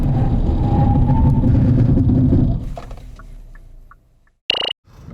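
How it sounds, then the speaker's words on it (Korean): Hyundai Avante 1.6 car in a braking test, a loud engine and road roar that drops away as it slows to a near stop, followed by a short sharp squeal and then quiet. "시장 아반떼 제동 성능을 한번 볼까요?"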